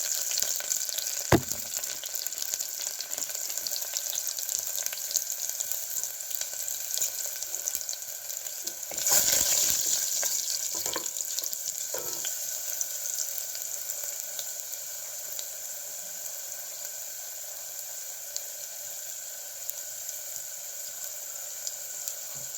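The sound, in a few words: cumin seeds and garlic cloves frying in hot oil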